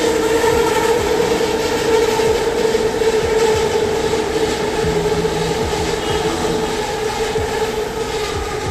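A Kuala Lumpur MRT metro train runs past close by, a steady rumbling roar with rhythmic clattering and a high whine, loud and continuous throughout with no talking.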